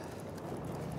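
Faint, quick hoof clip-clop of a horse moving in the video game Battlefield 1, soft rhythmic thuds at a distance with a low background hum.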